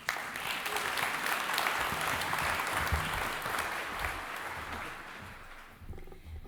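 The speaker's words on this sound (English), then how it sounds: "they all deserve some applause for their contribution" Conference audience gives a round of applause in a hall, a sustained wash of clapping that holds steady, then gradually thins and fades toward the end.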